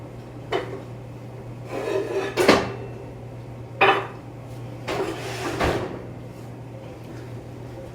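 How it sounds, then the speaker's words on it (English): A baking pan is pulled out in a kitchen, giving a few separate metallic scrapes and clanks of pan against pan and shelf at close range, with a steady low hum behind them and no talking. "Let me just grab the pan."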